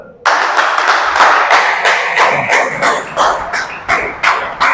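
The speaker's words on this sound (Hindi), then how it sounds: "सब लोग जोरदार तालियों के साथ उनका स्वागत करेंगे" An audience claps loudly and steadily to welcome a leader onto the stage at a network marketing training event, a dense burst of applause that starts suddenly and keeps going near and full throughout.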